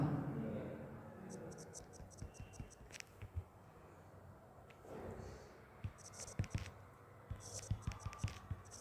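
Marker or chalk scratching across a board in a Hindi-medium physics class on Newton's first law, a run of short strokes and taps, faint with room noise and some low voice in the background.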